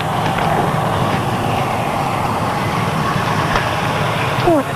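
Vehicle engine idling at a roadside police check in 1984, a continuous broadband rumble with steady low tones, close and constant, with faint background noises.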